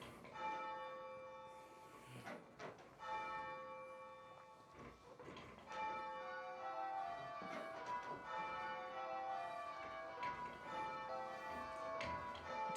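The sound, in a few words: church bells rung by bell ringers at practice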